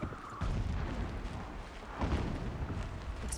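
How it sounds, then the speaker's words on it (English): Explosions in the video game Horizon Zero Dawn sound distant as muffled, rolling low booms, with two heavier swells rising over a dense, noisy rumble and no voices. "Explosions in the distance."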